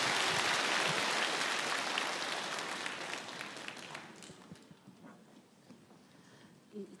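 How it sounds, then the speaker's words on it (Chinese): An audience at a church gathering claps to welcome a speaker, dense applause that holds steady, then thins out and fades over the last few seconds. "我们掌声鼓励。"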